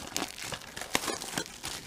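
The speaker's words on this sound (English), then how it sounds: "Let's rip open this blaster box of dollars here and see if we can pull anything out of here." A blaster box of trading cards being torn open, short close crinkling and tearing of foil and cardboard in quick bursts.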